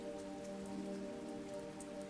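Steady rain falling, a soft, even hiss of drops with a low hum beneath, continuous and unbroken, quiet and alone without any voices.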